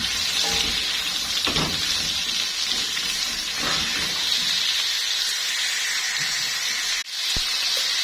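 Onions fry in melted ghee, a steady, fairly loud sizzling hiss with a few soft knocks and scrapes and one brief dip near the end.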